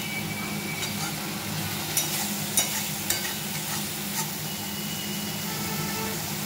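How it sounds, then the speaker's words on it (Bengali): Spice masala for egg curry fries in oil with a steady low sizzle, broken by a few sharp utensil knocks and scrapes against the pan while it is stirred. "দেখো মশলাটা কষানো হচ্ছে আর তেলটা ছাড়ছে"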